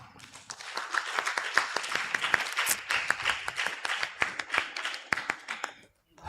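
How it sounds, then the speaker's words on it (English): Conference audience at a university gathering applauding a speaker, a dense wash of many hands clapping steadily for about six seconds before it fades out abruptly near the end. "Let's give her a clap."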